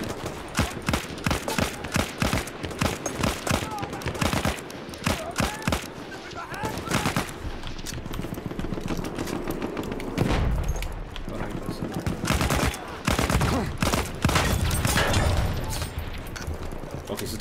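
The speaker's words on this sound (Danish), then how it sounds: "Skuddene, de flyver bare." Rapid bursts of gunfire from the Battlefield beta video game crackle almost nonstop, dense volleys with occasional booms, while players talk excitedly over the shooting.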